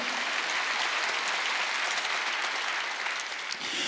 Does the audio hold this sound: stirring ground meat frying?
no